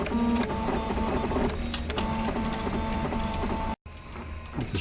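A large home-built 3D printer with over 200 litres of print volume runs mid-print, its stepper motors whirring and buzzing steadily with tonal whines, broken by a brief dropout near the end.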